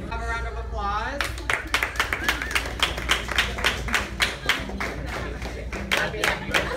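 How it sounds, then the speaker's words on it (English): A small group claps in rhythmic, fairly close bursts at a birthday surprise, the individual hand claps distinct and evenly spaced, with voices mixed in. "Have a round of applause."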